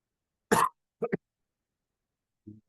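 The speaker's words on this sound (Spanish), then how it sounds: "tengo una tos horrorosa" A single person gives a loud, harsh cough, then two short throat-clearing bursts, and after a pause a softer cough starts, all close up in an otherwise quiet room.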